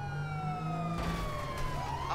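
Police car siren in the video game GTA Online, a loud continuous wail with rising and falling sweeps, close and heard alone without talk over it.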